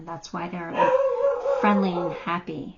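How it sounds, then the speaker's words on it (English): A dog barks and yips in short bursts close by, mixed in with a person talking over it indoors. "Sorry about the dog."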